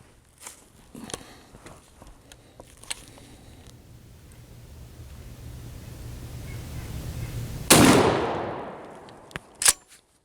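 A shotgun firing Hornady Heavy Magnum Coyote shells booms once, loud and sharp with a decaying tail, following a slowly rising rumble and scattered small clicks and handling sounds outdoors.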